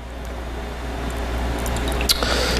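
Kettle corn-infused vodka is poured into a glass, giving a soft, steady liquid trickle against a low background hum, with a brief clink near the end.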